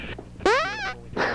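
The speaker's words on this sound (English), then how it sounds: "I love that fart." A recorded fart with a rising, buzzy pitched tone of about half a second, loud and close, between short bursts of rougher noise, with no one talking over it.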